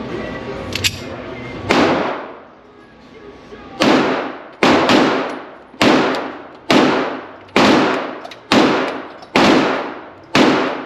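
A Smith & Wesson M&P 2.0 Metal Frame Competitor 9mm pistol fires eight or so sharp, loud shots at a range, a few spaced apart early on, then a quick, fairly even string of reports with short ringing decays.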